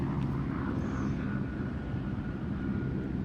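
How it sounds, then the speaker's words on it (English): A helicopter passes overhead, a steady low rotor and engine drone holding at moderate level throughout, with no one speaking. "Oh man, helicopters! So we'll let it pass by for a second."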